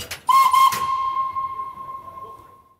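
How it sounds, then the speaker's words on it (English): The whistle of the Flying Scotsman steam locomotive sounds close by, a loud steady high tone that opens with a hissing burst of steam and then fades slowly away. "we've got the magic whistle, which everybody wants to blow"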